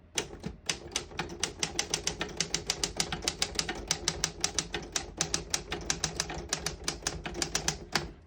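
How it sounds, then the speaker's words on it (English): A 1940 LC Smith Super-Speed vintage desktop typewriter clacks out a sentence, with a fast, steady run of sharp, loud key strikes close to the listener and no talk. "I'll type a sentence on the next line."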